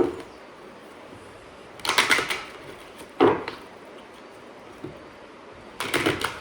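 Short bursts of papery riffling as a tarot deck is shuffled nearby, with a sharp tap between bursts and quiet gaps.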